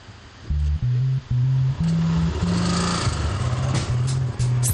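A Can-Am Spyder three-wheeled roadster's engine blips and revs in a string of short, loud, close bursts, each rising and falling, over a constant rushing background noise.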